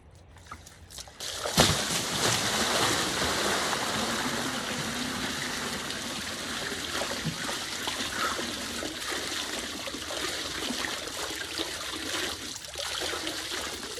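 Water trickles and sloshes steadily during a cold water bath. It starts with a splash, then a continuous close, moderately loud wash of running water carries on with no talk.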